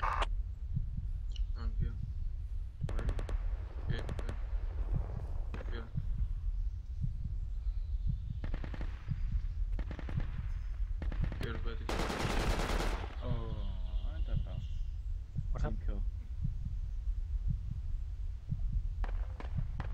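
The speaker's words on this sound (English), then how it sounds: "Taking fire!" Gunfire in the Project Reality military shooter game, bursts of automatic fire and scattered shots through the clip with a loud dense volley near the middle, mixed with voices of players talking.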